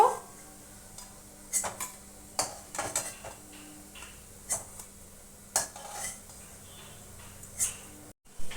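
Fried sweet pumpkin fritters (mishti kumror bora) being lifted out of a frying pan, with scattered light metallic clinks and scrapes against the pan at an irregular pace, close and moderately quiet, with no talking.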